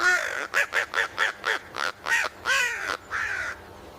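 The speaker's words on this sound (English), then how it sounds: "Crow." A crow caws loudly and close, about ten harsh, evenly spaced calls in a steady rhythm, with the final few drawn out longer.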